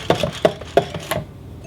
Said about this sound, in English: And we're going to whisk that through again.